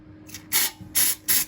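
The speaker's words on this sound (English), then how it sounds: "Spray it on, nice and evenly." Three short hissing bursts of an aerosol spray can coating a die-cast Matchbox Jaguar XJ12 casting, each under a second, close by with brief pauses between them.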